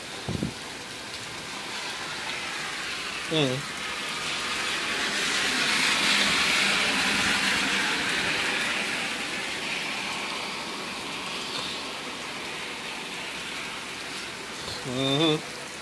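Heavy rain pours down in a steady hiss that swells louder through the middle and eases again, while a voice speaks briefly near the start and the end.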